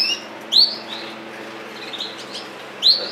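Gloster canary chicks in a breeding cage give a few short, high chirps, two sharper calls standing out among fainter peeps over a quiet background hum.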